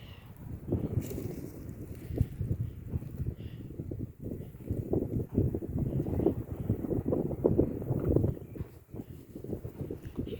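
Strong summer wind roars and buffets the microphone in low, rumbling gusts that keep rising and falling throughout, during kite flying.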